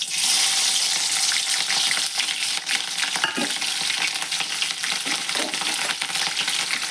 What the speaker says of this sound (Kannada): ಈಗ ನಾನು ಒಗ್ಗರಣೆಗೆ ಜೀರಿಗೆ ಮೆಣಸಿನ್ಕಾಯಿ ಇಟ್ಕೊಂಡಿದ್ನಲ್ರಿ ಹಾಕ್ತೇನೆ ನೋಡ್ರಿ.